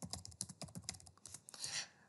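Rapid keystrokes on a computer keyboard while entering data into a statistics program, a run of distinct clicks with short pauses and then a denser burst near the end, close and clear with no talk.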